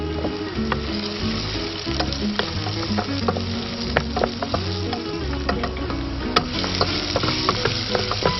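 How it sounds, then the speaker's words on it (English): Onions and arborio rice fry in a pan with a steady, loud sizzle and frequent stirring scrapes and crackles running throughout, close up, with no talk. "Now put in the arborio rice."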